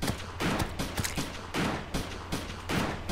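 Rapid bursts of weapon fire from the Atelier Logic gun in the video game Terraria, with repeated loud shots in quick rhythmic volleys over a low droning background, no talking.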